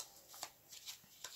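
Tarot cards being shuffled and handled, soft repeated riffling and flicking of the deck, close and quiet with no talking.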